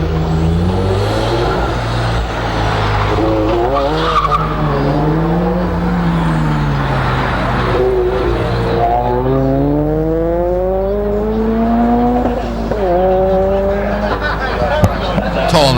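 A Toyota 86 climbs the Legend of the Lakes hillclimb course, its engine rising and falling through repeated gear changes, moderately close, under a commentator's steady talk.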